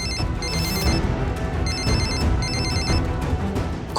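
A phone rings with a warbling electronic ringtone that repeats in three evenly spaced bursts, loud and clear against quiet room tone.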